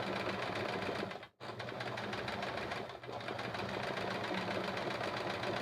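A sewing machine runs steadily through free-motion quilting stitches, a fast, even mechanical whir and knock that pauses briefly twice and otherwise continues unbroken, close and moderately loud.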